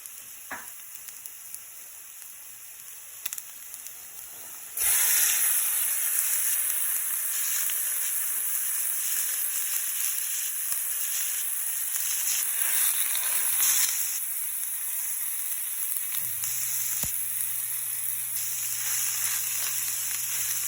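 Ground pork frying in a pan for homemade shawarma, starting with a few quiet clicks. A sudden loud sizzle then holds steady close up for the rest of the time, with a low hum joining near the end.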